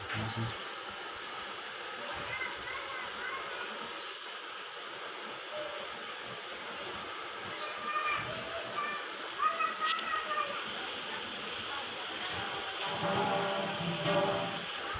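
Samosas sizzle and bubble in hot ghee, a steady crackling fry with small popping spatters, fairly close, continuing throughout with a voice talking faintly over it.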